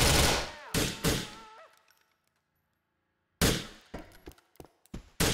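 A shotgun fired in the video game Grand Theft Auto IV gives loud sharp blasts, two near the start, then a quiet gap before a burst of several more shots and impacts, with no speech.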